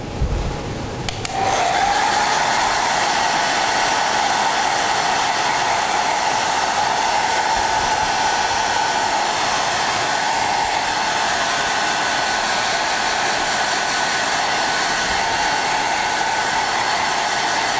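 A hair dryer switches on and runs loud and continuous while drying a painting, a steady, close blowing roar.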